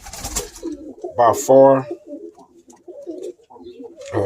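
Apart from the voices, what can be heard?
pigeon cooing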